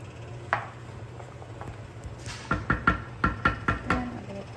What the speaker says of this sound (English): I'm going to stir it all up.